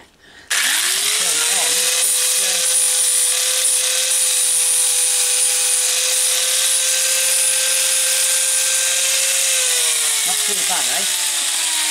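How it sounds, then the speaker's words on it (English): An angle grinder fitted with a flat disc, its fan broken, grinds metal in a workshop while making a spanner clock. It spins up sharply and holds a loud steady whine close by, then winds down near the end. "the easiest way around that is just to stick the other grinder with the flat disc on"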